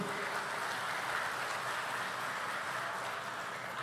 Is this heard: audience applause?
yes